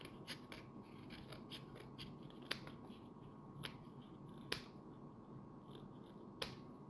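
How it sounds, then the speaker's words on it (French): Scissors snip through an egg carton during a craft project, giving a few sharp, isolated cuts spaced a second or two apart over a quiet background. "je vais aller découper"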